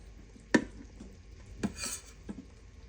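Rice served from a pot for a stewed beef meal, with two sharp spoon knocks against the pot and a soft scraping scoop between them, close and fairly quiet.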